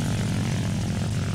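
A water plane engine in Minecraft drones steadily with a dense, low propeller-like roar, constant and close throughout, and no one talks over it.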